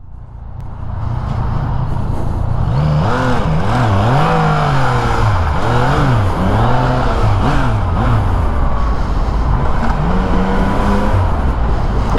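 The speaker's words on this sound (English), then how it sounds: "Wow, this is a lot of traffic." Dense road traffic of many cars on a group ride, engines rising and falling steadily under loud, continuous road and wind rumble, with no talking.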